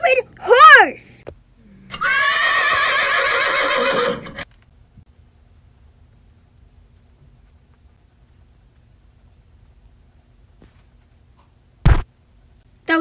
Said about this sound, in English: You stupid horse!